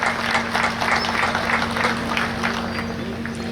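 Crowd applause for Fire Olympics participants at a closing ceremony, a steady mid-distance clatter of many hands sustained under a constant hum, with faint voices mixed in.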